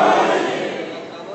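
Loud crowd at a Shia majlis gathering chanting the Nara-e-Haidari slogan in unison, a dense roar of many voices that starts strong and slowly tapers over a second.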